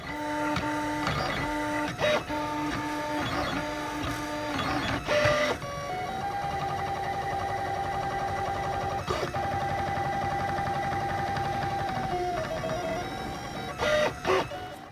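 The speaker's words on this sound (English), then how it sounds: "that's what I'm going to use to 3D print the doors and the frames" A 3D printer fabricating tabletop terrain doors and frames for Star Wars: Legion hums and whines steadily, its stepper motors shifting pitch in sustained tones with occasional rattling moves, close and alone.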